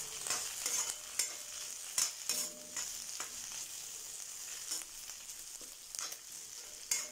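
Curry leaves sauté and are stirred in a pan while mint chutney is being made, with a steady soft sizzle broken by repeated scraping and stirring strokes, close and fairly quiet, with no talking.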